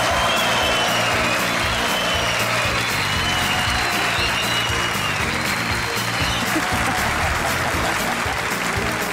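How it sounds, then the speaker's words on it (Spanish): Studio audience applause on a Saturday-night TV comedy show, dense continuous clapping and crowd noise held at a loud, even level, with a faint voice over the top. "el aplauso para Barbarita"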